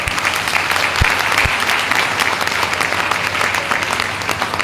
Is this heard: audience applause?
yes